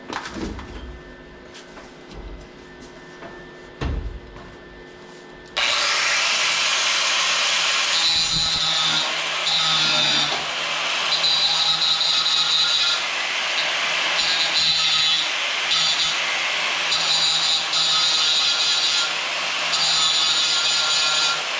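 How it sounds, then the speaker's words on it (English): An angle grinder cuts into a metal gas tank during an upgrade, starting abruptly and then running as a loud, steady, harsh whine. Pitch and load shift now and then, and a few knocks and clatters come before it. "Have grinder, will travel."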